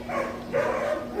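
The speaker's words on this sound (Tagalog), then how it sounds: "Maingay na yung mga aso." Several dogs bark in a couple of quick bursts, moderately near, with household background noise around them.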